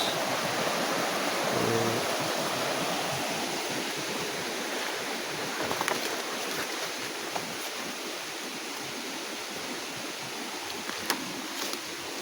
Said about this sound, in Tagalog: Napakatahimik dito, no? Yung ingay lang ng tubig, no? Ah, ayun mga lods. May sapa dito mga lods.